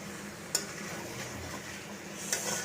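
Curry sautéing in a pan with gentle sizzling and a spoon scraping and stirring, two sharp clinks of metal against the pan standing out over the soft steady fry.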